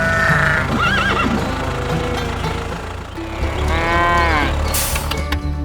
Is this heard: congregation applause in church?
no